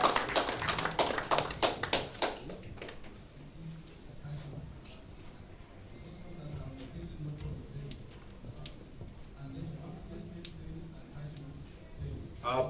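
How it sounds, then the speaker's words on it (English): An audience claps for a presenter at a service-industry talk. The applause is light and scattered in the first few seconds, then fades into low room noise and faint talk. "Can you give her an applause, please?"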